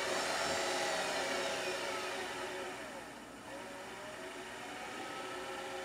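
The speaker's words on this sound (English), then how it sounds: "Turn the lathe on and turn the speed way down." A metal lathe spins at low speed while preparing a circuit board pen blank, giving a steady whirring hum with faint high machine whine throughout, dipping slightly in level midway and continuing alone without talk.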